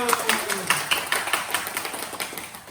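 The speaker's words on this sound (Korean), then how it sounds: "박수" Congregation at Hwajeong Church clapping during a recorded worship service, a steady patter of sharp, fairly close claps lasting a few seconds and tapering slightly toward the end.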